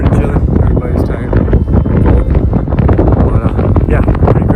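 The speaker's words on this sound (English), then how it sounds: "It's super windy, pretty chilly." Strong, chilly wind in the Black Hills roars and buffets the microphone in a steady, loud, unbroken rush.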